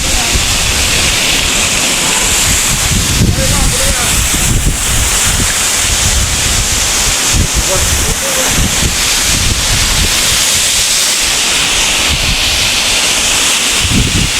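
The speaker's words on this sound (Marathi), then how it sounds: "वरून पाणी येऊ राहिले खाली आणि इथून इकडे जाऊ राहिले." Water pours down the hillside at Malshej Ghat, a loud constant rushing roar mixed with heavy buffeting wind on the microphone.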